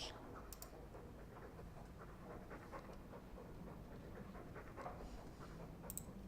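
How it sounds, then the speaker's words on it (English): A dog pants in the video game Dragon Age II, giving a steady, soft, breathy rhythm of quick huffs that runs continuously throughout, with a few faint clicks and scratches in the background. "Hello, dog."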